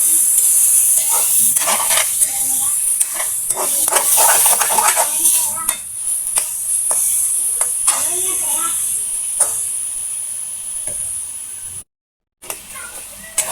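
Chicken frying in hot oil while being stirred, a bright continuous sizzle with repeated scraping and clattering of a spatula in the pan, loud and close throughout.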